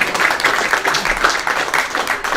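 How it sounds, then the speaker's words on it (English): A live podcast audience claps together in a dense, steady wash of applause that stays loud and even throughout, with no clear voices over it. "Clap yourselves, clap yourselves."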